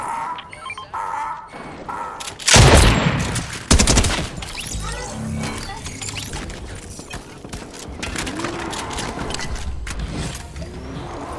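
A Stinger SMG fires in the game Fortnite in loud rapid bursts of gunfire around the third and fourth seconds, with clattering mechanical sounds and busy game noise before and after.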